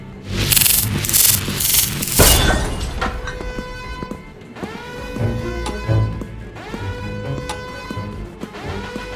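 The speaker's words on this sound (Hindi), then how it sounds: "लेजर ड्रिल सेट है, अब शुरू करते हैं ऑपरेशन।" A laser drill sound effect for a cartoon heist: a harsh grinding, sanding-like burst gives way to layered whining electronic tones that rise and fall for several seconds.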